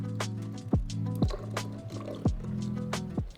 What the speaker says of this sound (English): pour them and their soaking liquid into the blender, followed by that syrup we just made